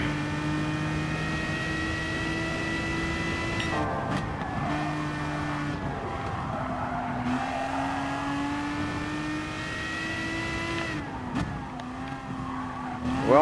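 Aston Martin DBR9 Group 3 race car in Gran Turismo Sport, a sustained loud engine drone with rising and falling revs, sharp gear changes and tire squeal through corners, steady throughout.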